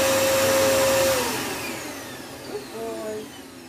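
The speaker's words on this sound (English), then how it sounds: "then we can bring the Hoover closer. This is still done in small bursts of turning it on and off." A Hoover vacuum cleaner whirs loudly nearby with a steady tonal whine, then its motor spins down and the drone fades before a brief flutter, heard alone without voices.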